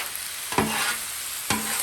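Smoked sausage sizzles on a Blackstone griddle, a bright steady hiss broken by two sharp scrapes of a spatula about a second apart.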